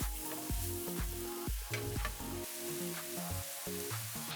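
Mushrooms sautéing in a pan while a spatula stirs them, a steady soft sizzle with faint scraping, close and quiet with no talking.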